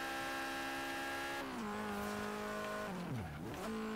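A Peugeot or Renault race car in Forza Horizon 3 holds a steady high-revving engine whine, shifts down, then its tires squeal through a corner as revs dip and climb again, loud and close with no talk.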